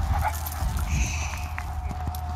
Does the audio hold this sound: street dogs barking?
yes